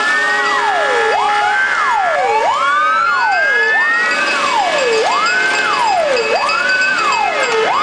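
Loud wailing fire engine sirens rising and falling in overlapping cycles, with several fire engines sounding at once in a village parade procession, close by.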